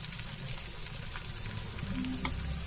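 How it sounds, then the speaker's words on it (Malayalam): Lengthwise-sliced garlic and ginger sautéing in hot sesame oil for a ripe mango pickle, a soft, steady sizzle with faint stirring scrapes close by. "നല്ലെണ്ണ ചേർത്ത് നന്നായിട്ട് ചൂടായി കഴിയുമ്പോൾ അതിലേക്ക് വെളുത്തുള്ളി ഇഞ്ചി നീളത്തിലരിഞ്ഞതിനായിട്ട് നമുക്കൊന്ന് വഴറ്റാം"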